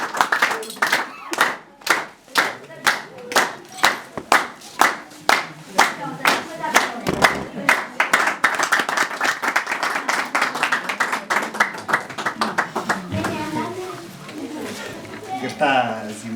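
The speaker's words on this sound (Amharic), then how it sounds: "ጭብጨባ" Rhythmic group clapping at a wedding ceremony: regular, sharp claps in a steady beat with voices singing or chanting along, gradually blending into denser crowd noise.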